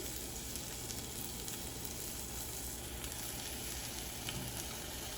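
Korean short ribs sizzle on a grill grate over high heat, a dense, continuous crackling hiss heard close and steady throughout, with no voices.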